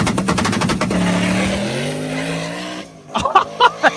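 A 500 hp street car roars through a drag racing pass, its engine note climbing steadily and loud before cutting off, followed by a few sharp bursts or pops near the end.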